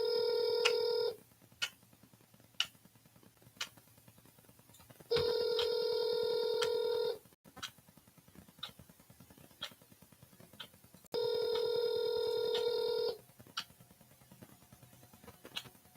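An outgoing telephone call rings back three times. Each ring is an electronic tone lasting about two seconds, with roughly four seconds of quiet between rings and faint clicks in the gaps.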